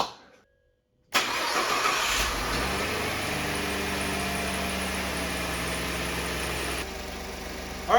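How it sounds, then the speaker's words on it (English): A rebuilt 2014 Ford F-150 EcoBoost truck engine cranks briefly and catches, then settles into a steady, smooth idle heard up close, dropping slightly in level toward the end. "So now let's start up the truck again."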